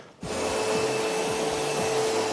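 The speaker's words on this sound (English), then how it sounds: "So next, Mr. Trump, I'm going to need you to vacuum" Vacuum cleaner running in a hotel room, a steady loud motor whine that starts abruptly after a brief quiet moment and holds constant, with a rhythmic pulsing hum underneath as the nozzle moves.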